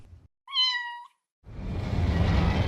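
A single clear cat meow rings out alone, followed after a short silence by a loud, continuous broadband rumble.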